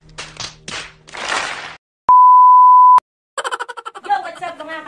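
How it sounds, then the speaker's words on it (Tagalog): A bright synthetic bell tone rings steadily for about a second, set between short bursts of other sound effects and a lively voice. "Subscribe and click the notification bell."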